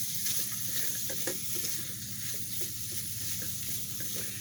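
Peppers and onions sizzle steadily in an Instant Pot, cooked in a truck, a dense continuous frying hiss with faint clicks of a heat-resistant spatula stirring, close and alone with no talk.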